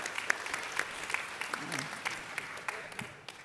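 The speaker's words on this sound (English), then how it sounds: "Will, most of that applause was for you." An audience at a community event applauds with steady, moderately close clapping, individual claps standing out from the crowd, fading slightly toward the end.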